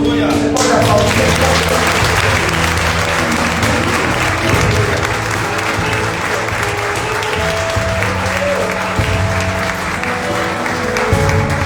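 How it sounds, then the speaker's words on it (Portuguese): Loud sustained applause from a church congregation after a prayer, steady dense clapping that fills the room for the whole stretch, with sustained tones and voices mixed in beneath it. "Pode aplaudir."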